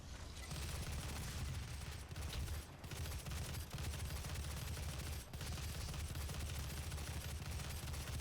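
Sustained rapid gunfire in the DOOM video game on PS4, loud and nearly continuous bursts with a heavy low-end rumble and a couple of brief gaps, no voices.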